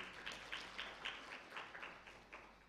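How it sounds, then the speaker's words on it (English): Applause at the East Africa Law Society annual conference for the heads of state, faint and distant, a loose patter of claps rising and falling in soft waves. "I think we need to applaud our heads of state"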